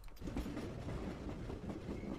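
Train rolling on rails in the AGEOD Civil War 2 strategy game, a steady loud rumble with faint rhythmic clacking, continuous and without talk.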